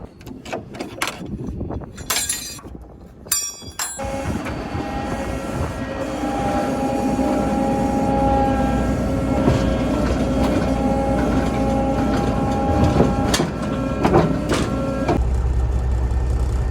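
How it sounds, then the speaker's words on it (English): A train passes a railroad crossing near a wheat harvest, opening with a few knocks and clanks, then a long loud steady rumble of rolling railcars with faint tonal squeals, close by and alone without talk. "I've been stuck here for about 15 minutes after I unloaded waiting for this train"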